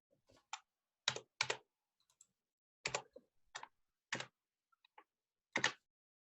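Computer keyboard keys clatter in short, irregular bursts of a few quick taps separated by pauses, close and fairly quiet.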